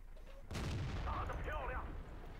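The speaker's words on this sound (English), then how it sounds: "So I had a good shot at him, so I took it." World of Tanks tank battle: a single heavy cannon blast that bursts in sharply and rumbles on for about a second and a half, with faint game effects around it and low background noise.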